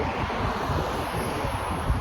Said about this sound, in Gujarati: કારણ કે અહીંયા છે ને બહુ પવન છે